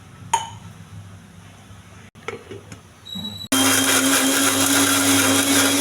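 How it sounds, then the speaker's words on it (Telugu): Mixer grinder starts abruptly after a few faint clinks and runs at a loud, steady whine, blending peanuts, cumin and coconut with water in the jar. "కొంచెం వాటర్ వేసి మిక్సీ వేసుకోవాలి."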